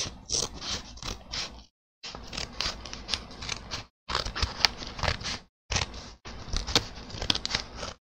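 Scissors cutting open a package sent from Florida, a close series of crisp snipping and crunching bursts separated by a few short pauses.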